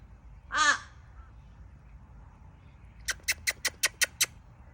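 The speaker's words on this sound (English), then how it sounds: "Is that why you're yelling at me in crow language?" Crows caw, first one long harsh call, then after a pause a quick burst of about seven short sharp caws in a row, close and clear against a quiet background with no talk.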